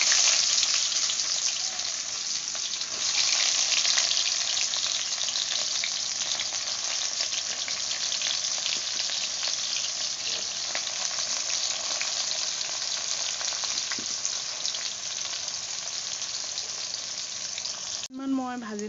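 Cumin seeds and onions frying in hot oil in a home kitchen while cooking a meat dish with elephant foot yam, a steady loud sizzle that runs the whole time with a brief stir near the end.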